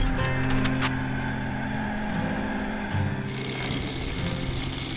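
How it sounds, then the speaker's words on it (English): Wood lathe spinning around 1000 RPM as a 3/8 bowl gouge removes excess yew timber for a vase, a steady loud motor drone with continuous scraping cut noise throughout. "I turned the lathe up to around 1000 RPM and using a 3/8 bowl gouge, I started to remove the excess timber."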